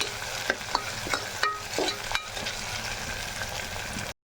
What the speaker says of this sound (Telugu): ఇది కూడా పచ్చి వాసన అయ్యే వరకు ఫ్రై చేసుకోవాలి.